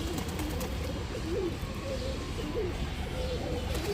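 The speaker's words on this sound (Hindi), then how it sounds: "ये जो है सनी का कबूतर है" A pigeon coos in soft repeated calls over a steady background hum, fairly faint and close, with no talking.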